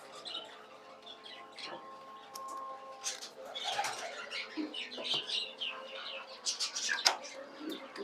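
A pair of Telmark fancy pigeons sitting on their eggs give soft, low cooing with scattered chirps from other birds in a farm loft, faint, while someone talks over it.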